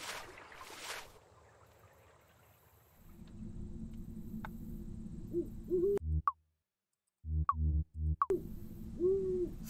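Owl hoots from the Colossal Cave Adventure video game, short rising calls near 6 and 7.5 seconds set against a steady game background drone with brief silent gaps.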